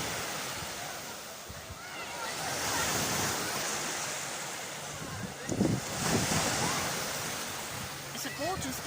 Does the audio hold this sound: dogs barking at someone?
no